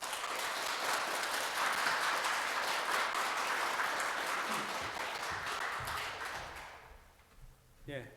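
A church congregation applauds in sustained, dense clapping at an Easter Sunday service, the applause loud and steady before tapering off near the end into a few scattered sounds.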